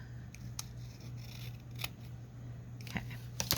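Scissors trim the edge of a paper card in a handful of crisp, close snips spread over a few seconds, with a steady low hum in the background.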